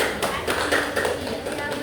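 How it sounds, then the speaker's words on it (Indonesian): Schoolchildren in a classroom applaud a student group, giving brisk, continuous clapping at close range with some tapping and light murmuring underneath. "Beri tepuk tangan kepada kelompok auditori."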